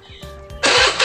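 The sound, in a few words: Honda Beat motorcycle being started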